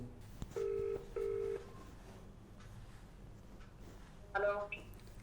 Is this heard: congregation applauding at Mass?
no